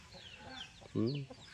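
A rooster clucks once, a short throaty call close by, with faint bird chirps in the background.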